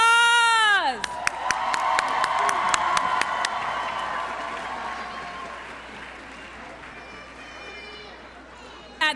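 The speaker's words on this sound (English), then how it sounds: "One more round of applause." Audience applause at a high school graduation ceremony, a steady wash of clapping that starts loud with a few sharp claps and then tapers slowly, with a voice speaking over its opening moment.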